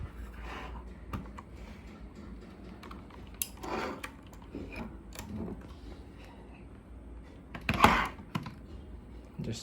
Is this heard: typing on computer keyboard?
yes